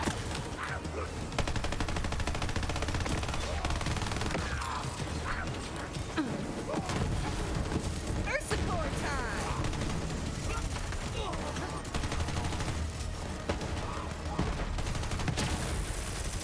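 General Winter cryo minigun firing in Borderlands 3, a dense, continuous mechanical roar of rapid gunfire with whirring and clanking that runs nonstop for about sixteen seconds, loud and close.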